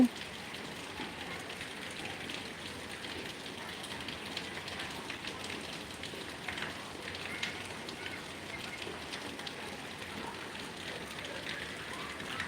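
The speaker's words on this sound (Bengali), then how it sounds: "নোয়াখালীতে প্রচুর পরিমাণ বৃষ্টি আপনারা সবাই দেখতেছেন" Heavy rain pours down steadily in Noakhali, Bangladesh, a dense, even hiss that carries on without a break throughout.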